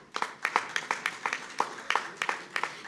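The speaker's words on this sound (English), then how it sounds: "Can we have a big round of applause for him, please?" Audience at a felicitation ceremony applauding, a thin, fairly faint patter of separate claps from a small crowd, unevenly spaced with no voices over it.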